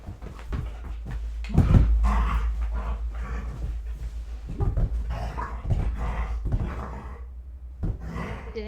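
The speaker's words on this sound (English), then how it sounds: "Such a cute dog." A dog growls and lets out short barks and whimpers while someone plays a tug-of-war fighting game with it, close and fairly loud in intermittent bursts.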